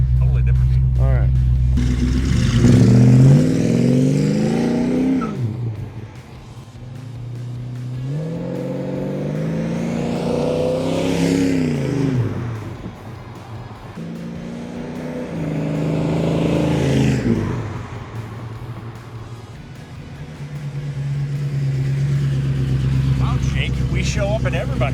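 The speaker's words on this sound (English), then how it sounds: "Not a drive-by, we're doing a flyby" A 1967 Chevy II Nova engine revs and surges past, rising and falling in loudness, with voices talking over it.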